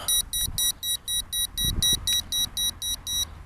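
A Visuo XS818 Zen mini toy drone emits rapid high-pitched electronic beeps in an even rhythm, about fourteen short pulses, with faint thumps and handling noise underneath.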